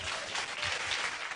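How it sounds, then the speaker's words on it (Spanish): A church congregation claps for the Lord in a dense burst of applause, steady and close throughout, with no voices over it. "Denle un aplauso al Señor"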